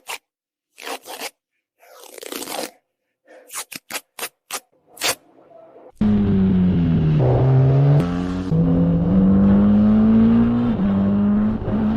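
Race car engines drone loudly during a race in a car built from aircraft scrap, a sustained revving tone with shifting pitch that starts abruptly after a stretch of sparse, sharp clicks and scrapes.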